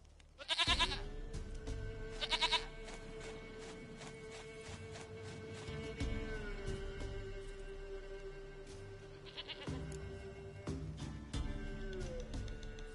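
A goat in The Witcher 3 bleats in two loud, wavering calls near the start, then a sustained game tone and ambient music carry on with scattered bleat-like bursts later.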